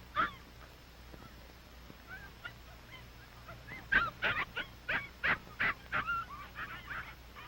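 Several puppies whimper and yip in a quiet room, starting with a few soft isolated whines and building into a quick run of high, nasal yelps close to the microphone.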